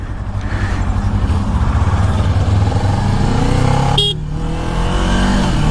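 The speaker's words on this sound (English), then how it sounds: "Now I'm riding the bike." A Kawasaki Ninja 400 motorcycle engine hums steadily while riding, with road and wind noise and a brief horn-like tone near the end.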